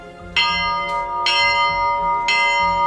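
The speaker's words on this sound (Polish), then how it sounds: "znajdujący się w wieży kościelnej dzwon pochodzący z końca XIX wieku" A late-19th-century church tower bell tolls three times, loud and resonant, each strike ringing out with a long shimmering decay before the next.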